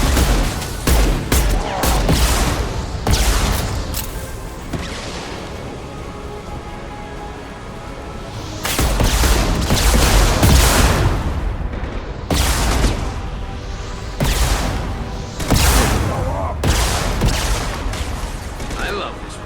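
Rapid bursts of rifle fire from the Mass Effect video game, loud and close, come in several clusters with brief lulls between them, alongside explosive booms and battle noise.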